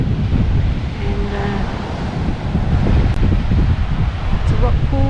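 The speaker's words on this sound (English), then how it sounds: "lots of rock pools and crashing waves" Rough surf breaking against a rugged rocky headland with rock pools on the coast at Yamba, a continuous loud roar mixed with heavy wind buffeting the microphone, and faint voices briefly underneath.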